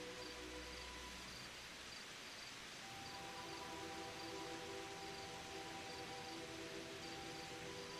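Crickets chirp in a faint, steady high-pitched drone over a soft hiss, continuous throughout with no voices.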